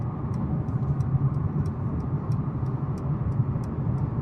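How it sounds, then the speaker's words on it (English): A 2019 Mercedes CLS450 4Matic turn signal ticks in a faint, steady rhythm beneath the constant low rumble of the cabin and road while driving. "I'm going to hit the blinker."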